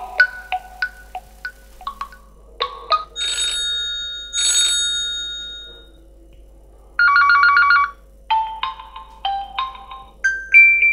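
A Huawei Honor 8 smartphone ringtone plays a bright electronic melody of plucked notes, sustained tones and a short trilling burst, loud and clear with nothing else.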